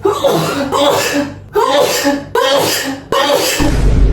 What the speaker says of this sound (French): Attendez, je vais éternuer.